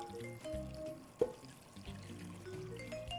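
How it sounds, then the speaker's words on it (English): Homemade chicken broth is poured over chicken pieces in a quiet kitchen, a soft faint splash and trickle of liquid with one brief clink partway through. "I'm gonna pour it over the pieces of chicken"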